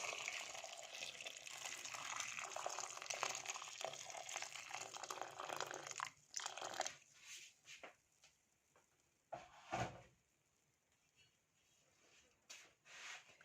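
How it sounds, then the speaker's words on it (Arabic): Boiling water pours into a pot of diced potatoes seasoned with salt and vinegar, a faint, steady rushing for about six seconds, then scattered splashes and light clinks. "وهحط عليها ميه سخنه تغلي تغطي كل كميه البطاطس اللي عندي."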